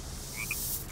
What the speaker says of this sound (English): Take control of this frog, see if I'm missing anything.